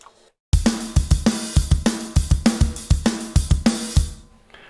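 A virtual 14 by 6.5 inch free-floating phosphor bronze snare drum played in a steady groove with kick hits underneath, each crack ringing with bright metallic snap and body, loud and close, about four seconds.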